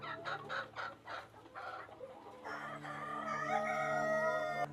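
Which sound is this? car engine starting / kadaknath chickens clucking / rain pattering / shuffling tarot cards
kadaknath chickens clucking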